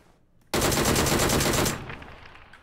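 Rapid automatic gunfire from a PUBG battle royale match bursts in loud and sustained for over a second, a dense stream of shots that then fades into a quieter tail.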